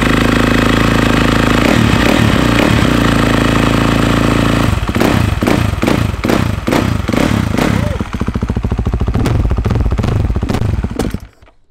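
A motorcycle fitted with an FMF exhaust starts up cold and idles loudly nearby, a steady throaty rumble broken by sharp revving bursts and pops before it cuts off at the end.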